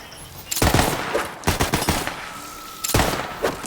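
Thrown turrets in Borderlands 3 open fire in three loud bursts of rapid automatic gunfire, separated by short pauses, with a faint steady tone in between.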